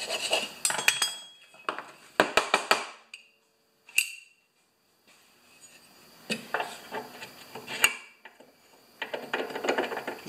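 A new lawn mower's blade boss rattling, heard as bursts of loose metallic clattering and jangling that start and stop several times over the span, fairly close with short quiet gaps between.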